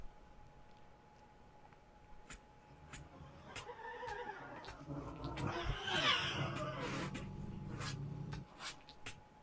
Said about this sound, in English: Sounds like a pig